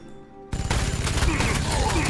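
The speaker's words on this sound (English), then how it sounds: "we're gonna fire at the orc boys with our assault cannon" Assault cannon firing at ork boyz in the Warhammer 40,000 game Sanctus Reach: a sudden loud burst of rapid, continuous heavy gunfire that starts after a short quiet lead-in and keeps going at full volume.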